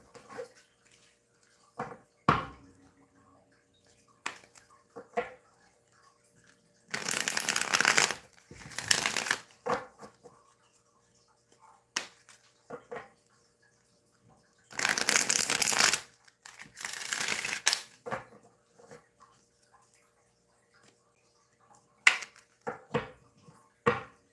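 Tarot cards shuffled by hand in two bursts of quick riffling, each lasting a few seconds, with soft taps and handling noises in between and no talking.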